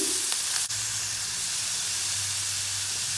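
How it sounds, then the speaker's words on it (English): Chopped onions saute in a hot pan for an Idli Manchurian snack, giving off a steady, close sizzling hiss with a faint low hum underneath and a brief clink near the start. "Saute the onions till the onions become soft"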